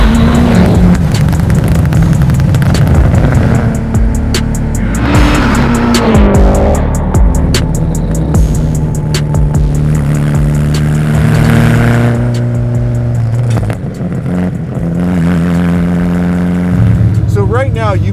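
Mitsubishi Evo RS with an all-wheel-drive 630-horsepower engine, a loud continuous engine drone shifting pitch as it cruises, heard from inside the car with people talking over it.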